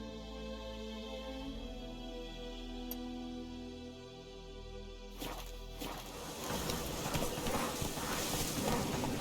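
Horse hooves clip-clopping in The Witcher 3, a steady rhythmic trot close by under a droning ambient score, with rustling and louder movement building toward the end.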